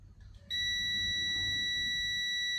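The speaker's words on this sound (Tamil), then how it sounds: "இப்போ இது வச்சா பஸர் அடிக்கும்" A multimeter's continuity buzzer sounds while a circuit is traced for a DC motor wired at 250 volts, a sudden steady high-pitched electronic tone that starts after a brief low rumble and holds loud and unbroken.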